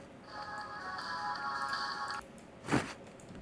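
A phone rings in the video game The Closing Shift with a steady electronic trill for about two seconds, then stops; a brief knock or clunk follows in a quiet room.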